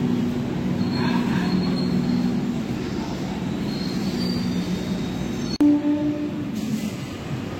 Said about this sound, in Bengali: দেখুন এই ট্রেনটা আবার যাচ্ছে টুয়ার্ডস দক্ষিণেশ্বর।